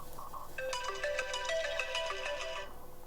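An iPhone ringtone plays, a bright melodic chime pattern of repeated electronic notes lasting about two seconds, clear and fairly loud over faint background hiss, with no talking.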